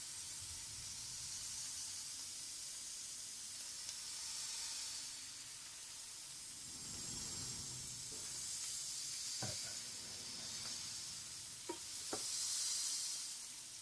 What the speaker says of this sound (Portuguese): O alho, a cebola e o pimentão também se transformam em contato com óleo quente.